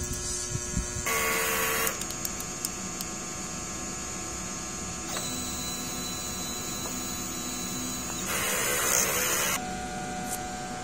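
A DTF printer runs its head cleaning cycle, whirring and buzzing mechanically, with steady motor hum and louder bursts of higher-pitched grinding as the head moves and cleans, interrupted by small clicks.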